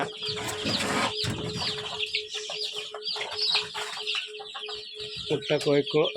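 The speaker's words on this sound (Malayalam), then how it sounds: "ഇവനാണ് വലിയ പൂവൻ" Native hens cluck busily in a backyard coop with a big rooster among them, their close, irregular calls overlapping as someone speaks quietly nearby.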